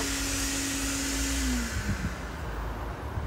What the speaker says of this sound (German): der hat schon Kraft dafür, dass das halt ein integrierter Staubsauger in einem Auto ist